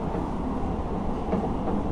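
Sleeper train number 13 from Bangkok to Chiang Mai running on the tracks, a steady low rumble with faint rhythmic clatter heard from inside the carriage.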